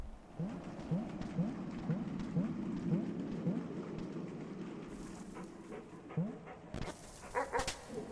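Short, clipped barks from dogs in the Animal Well video game come in a quick series early on and again near the end, moderately loud over a steady hiss of ambient game sound.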